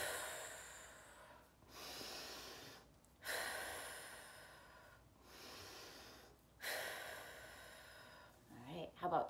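During a children's superhero yoga session, slow deep breaths are drawn in and pushed out again, each one long, airy and close, in repeated cycles a few seconds apart.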